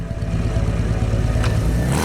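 Motorcycle engine in Devil May Cry 2: a steady, loud, low rumbling engine drone that runs without a break, with a brief brighter clatter near the end.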